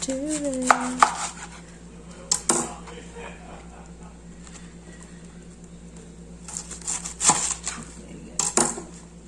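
A knife cuts through napa cabbage on a cutting board, a few sharp chopping knocks near the start and again toward the end, with quiet kitchen sounds between them.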